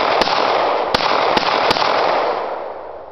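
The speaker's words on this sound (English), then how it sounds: "See if it'll actually fire 10 rounds." A Jimenez Arms JA9 9mm pistol fires four sharp, loud shots at uneven intervals, heard over a constant broadband hiss, with no talking.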